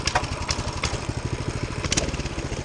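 A mini bike engine with its governor removed, running close and loud in a fast, even putter with sharp mechanical clacks now and then, and no voices over it.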